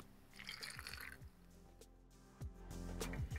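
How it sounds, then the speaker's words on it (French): Water is poured into a jar of seeds, cashews, hazelnuts, onion, garlic and green olives, a faint gurgling fill with drips and bubbly splashes building toward the end. "on remplit d'eau"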